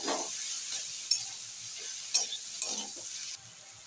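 Kulekhara greens sizzle in a pan with chilli powder while a spatula stirs them, giving a steady close hiss broken by a few sharp scraping clinks, then a sudden drop near the end.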